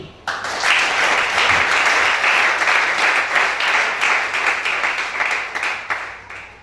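A church congregation bursts into sustained applause at a 2020 worship service in Gabon, loud, dense clapping that carries evenly for several seconds before tapering off, with no speech over it.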